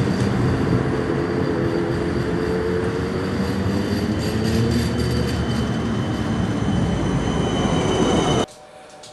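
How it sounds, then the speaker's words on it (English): A tram rumbles past close by, loud and steady with metallic wheel screeches and hum, then the sound cuts off abruptly near the end. "There's the tram."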